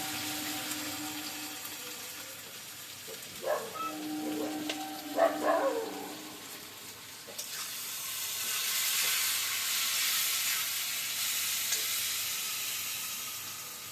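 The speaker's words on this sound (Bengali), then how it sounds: "আলুটা ভাজা ভাজা হয়ে গেছে" Potato pieces frying in a pan with salt and turmeric for a tilapia and yam curry, a soft steady sizzle with a few clinks of a spatula midway, the hiss swelling louder toward the end, close and without talk.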